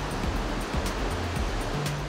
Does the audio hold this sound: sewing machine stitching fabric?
no